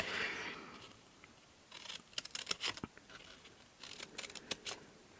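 Scissors snip through stiff card in quick clusters of crisp cuts, close and fairly loud, with a brief rustle at the start.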